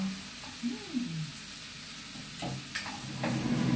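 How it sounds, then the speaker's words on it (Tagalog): Onion sautéing in a pan, a steady low sizzle with occasional stirring scrapes, while a person talks and hums intermittently over the frying. "Igisa ko lang tong sibuyas."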